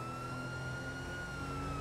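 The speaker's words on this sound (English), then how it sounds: "I'll keep my sirens on just for now" A police car siren in the GTA 5 video game wails steadily and fairly loud, with no voices over it, layered on a dense hum of engine and road noise.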